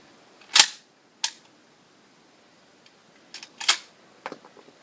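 A Hatsan Escort Aimguard shotgun dry-clicking on cheap American cartridges with light primer strikes: a few sharp metallic snaps and action clacks, spaced apart and fairly close, with quiet gaps between.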